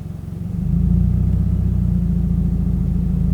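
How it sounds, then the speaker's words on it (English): A Subaru BRZ manual-transmission engine idles low and rough, then bogs and strains, nearly stalling as it pulls away slowly, a steady deep rumble with no voices. "So I'll kind of show you, and you can hear the engine."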